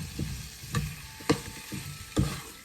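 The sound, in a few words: stirring tomato, okra and saijan sticks sizzling in pot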